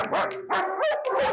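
Dogs on a farm bark several times in close succession, with sharp, loud yips and barks close to the microphone.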